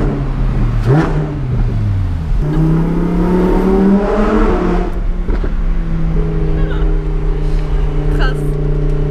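A Lamborghini Huracan Performante on the Autobahn, near a tunnel, roars loud and close as its engine revs and pulls through rising gear sweeps, then settles into a steady, droning high-speed cruise.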